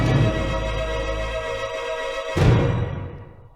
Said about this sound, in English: I added 3 layers of some basic cinematic drums, just to add that extra oomph